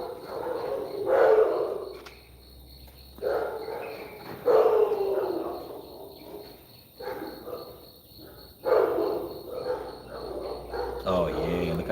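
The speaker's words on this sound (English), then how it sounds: "Y'all hear my dogs talking to me?" Several dogs barking and vocalizing in bursts at night near a horse stable, loud and fairly close, with crickets chirping steadily underneath and someone talking between the barks.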